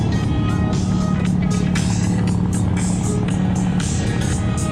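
A Toyota Cressida drift car on track at Thunderhill, a steady loud engine roar amid a busy drift event, with faint crowd noise and talk in the background.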